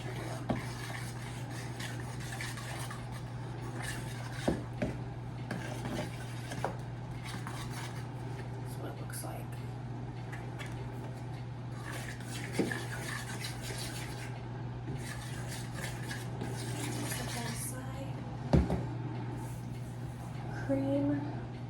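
Whisk clinking and scraping steadily against a bowl while flour, baking soda, cornstarch and salt are mixed, with a few sharper taps over a constant low hum.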